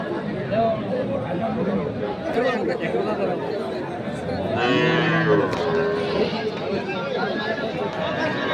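A cow moos once in a low, drawn-out call amid the continuous chatter of a busy outdoor cattle market.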